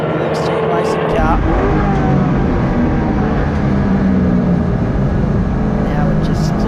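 A production touring race car laps Sydney Motorsport Park, its engine a loud, continuous roar that swells and shifts pitch through the gears, with a race commentator talking over it throughout.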